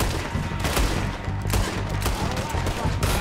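Gunfire in Red Dead Redemption 2 with the 1899-era guns rings out as repeated sharp shots in irregular bursts, loud and close over continuous background noise.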